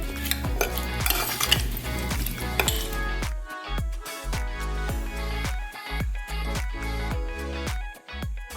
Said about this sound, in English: I'm just gonna stir it all together and pop them in the oven.